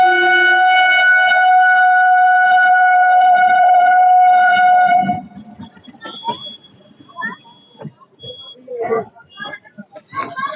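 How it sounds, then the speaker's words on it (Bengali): As a train pulls into a station, a loud sustained horn blares for about five seconds and then stops. Voices and station noise follow. "ট্রেন ঢুকে গেছে"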